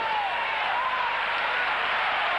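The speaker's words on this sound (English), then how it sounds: "The crowd backing them up all the way." Crowd noise at a 1996 World Futsal Championship semifinal between Brazil and Russia, a steady loud roar of cheering and applause filling the arena without a break.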